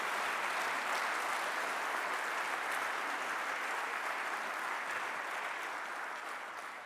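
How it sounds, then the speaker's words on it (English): Sustained audience applause fills a hall at a world chefs' general assembly session, a dense, steady wash of many hands clapping that stays loud throughout and eases only slightly toward the end, with no speech over it. "So I just wish that you'd give these guys a round of applause"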